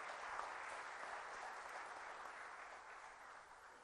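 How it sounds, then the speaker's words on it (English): Applause for a visiting professor at a lecture forum, a faint, even patter of many hands clapping that carries on steadily for a few seconds. "a huge round of applause to Professor Gupta for coming here to talk to us about it"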